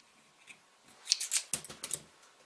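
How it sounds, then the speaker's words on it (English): Scissors snip through waistcoat fabric in a quick run of crisp, close cuts, several sharp snips bunched together in the quiet. "Just cut a little bit more,"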